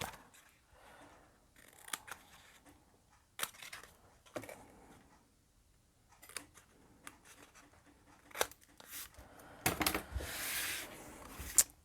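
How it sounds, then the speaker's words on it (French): Scissors cut through paper card for a handmade Advent letterbox calendar, a series of quiet, close snips and rustles in irregular bursts, with a louder crinkling stretch near the end. "On va couper un côté et l'autre."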